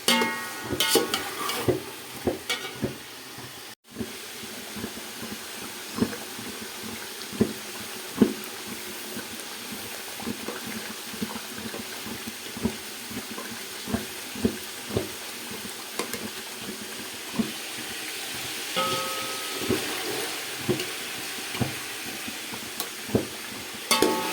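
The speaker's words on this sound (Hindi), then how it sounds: "यहाँ जो हमारा चिकन जो है वो फ्राई हो रहा है" Chicken frying in a pot for degi dum biryani, a continuous sizzle with repeated clicking stirring strokes and occasional knocks throughout, no talking.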